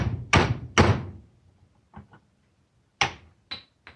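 A metal bar is hammered to drive a worn control arm bushing out of a 1990 Toyota SR5 pickup's front end: two loud sharp metallic strikes, a few faint taps, then two more hits, with no talk.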